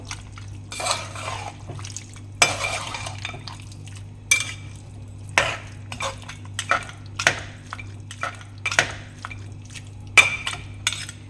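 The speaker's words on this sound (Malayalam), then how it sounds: "ഇത് നന്നായി മിക്സ് ചെയ്ത് കൊടുക്കാം" Repeated scraping clinks of a spoon against a metal pot as beef curry is stirred, irregular strokes with a steady low hum underneath and no talking.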